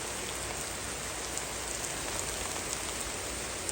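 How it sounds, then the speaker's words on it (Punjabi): Dense, steady morning rain falls and patters on surfaces, an even wash of sound without pauses. "ਸਵੇਰ ਸਵੇਰ ਮੀਂਹ ਸ਼ੁਰੂ"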